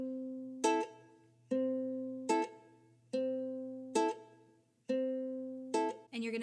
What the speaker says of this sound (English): you're going to mute your strings.